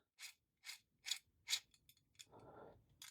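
The gears of a Tamiya Bratarootwo RC car grind roughly in a series of short, evenly spaced ratcheting bursts, then a brief whirring rasp follows, faint and close with no talk.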